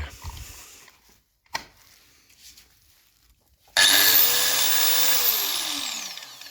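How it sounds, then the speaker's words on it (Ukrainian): An angle grinder, switched on at a garage socket, spins up with a sudden loud whine after a few quiet handling knocks, then runs steadily as its pitch slowly shifts. "Взяв булгарку, включаю автомат і будемо пробувати, чи працює."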